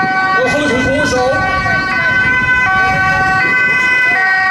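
An ambulance siren wails loudly and close at a Rotterdam harbour festival, its tones switching steadily over vehicle rumble, with people talking underneath.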